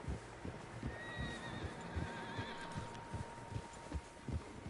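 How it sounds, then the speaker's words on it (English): Several horses nearby, hooves clip-clopping in an uneven rhythm while a couple of whinnies ring out over the trotting. "Horses, quite a few of them."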